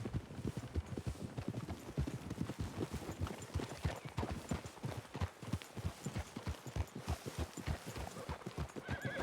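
Rapid hoofbeats of several horses trotting through trees in Red Dead Redemption 2, a steady clattering rhythm with occasional snorts, fairly close and continuous throughout.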